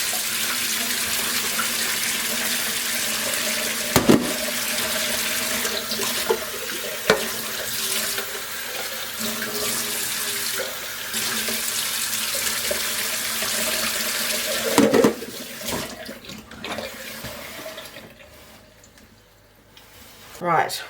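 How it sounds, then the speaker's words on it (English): Tap water runs steadily into canning jars at a kitchen sink during tomato preserving, a close continuous splashing rush with occasional glass knocks, easing off and quieting near the end; a person speaks intermittently. "I'm going to add a little bit of water and rinse these out"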